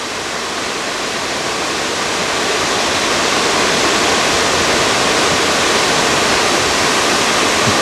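A waterfall near Pakse, Laos roars steadily, a loud dense broadband rush of falling water that holds constant and swells slightly, with no voices.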